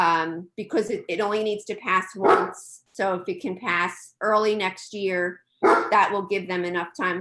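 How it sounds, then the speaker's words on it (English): A pet dog barks at home during a township council committee meeting held remotely, mostly buried under someone talking continuously. "I apologize for my dog."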